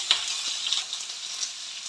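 Chopped pumpkin sizzles in hot coconut oil with mustard seeds and green chili, a steady, bright crackling fry with a sharp pop near the start, close and continuous with no voices.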